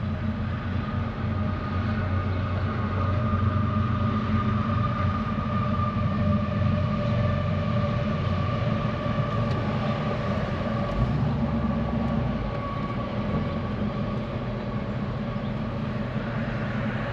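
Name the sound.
1968 AMC AMX engine idling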